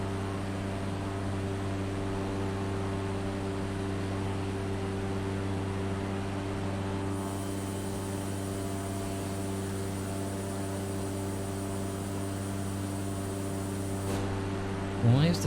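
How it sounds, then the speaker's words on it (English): Small propeller plane in flight on an Iceland bush trip, a steady droning engine hum with strong harmonic tones holding throughout, loud and close as if from inside the cockpit, with a brief sweeping whine near the end. "Why is the plane suddenly diving?"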